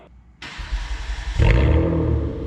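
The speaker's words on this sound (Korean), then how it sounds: "배기 소리 들어볼게요" A new-model Hyundai Grandeur LPG car starts up close by with its exhaust valve open and revs, the exhaust rumbling into a loud, throaty roar that holds steady.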